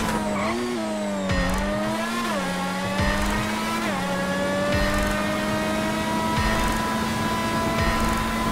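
Custom PR4 race car in GTA Online screams at high revs with steady rising engine harmonics, shifting gears several times as it accelerates down a straight, loud and close with no talking.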